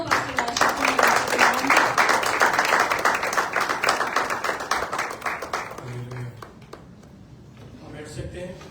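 Congregation applause at an Easter Resurrection Sunday church service in Dubai, a loud rhythmic clapping crowd that gradually thins and fades into scattered claps, with voices speaking and calling out over it.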